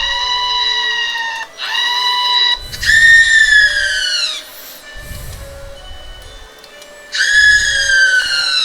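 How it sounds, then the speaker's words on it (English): A stock scream sound effect from RPG Maker MV plays as a series of loud, high-pitched wailing shrieks, each bending downward in pitch, repeated several times with brief gaps and low thumps beneath. "we're going to play a scream"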